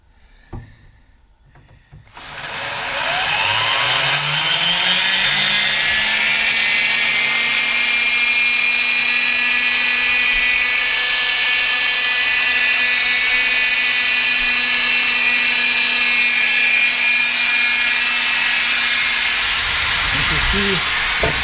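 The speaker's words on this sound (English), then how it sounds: "Now we turn on the turbine." A steam turbine with a muffler in its exhaust pipe spins up from quiet into a loud, steady roaring hiss of steam with a rising whine that settles into a constant high tone.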